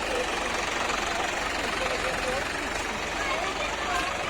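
A tractor idles in neutral at a tractor tug-of-war between an Eicher 551 and a Mahindra 575, giving a loud, steady knocking diesel rumble throughout while people talk nearby.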